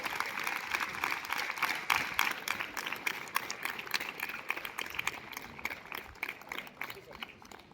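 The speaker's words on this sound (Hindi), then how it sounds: "जोरदार तालियों से आप तमाम हज़रात स्वागत करना है" Audience clapping to welcome the newly elected head girl at a school election results ceremony, a steady dense wash of hands that thins slightly toward the end, heard at moderate distance with faint voices mixed in.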